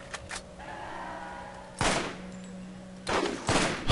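A sniper rifle fires in Borderlands, with a few sharp, loud cracks standing out against steady game background hum, each shot followed by a short ringing tail.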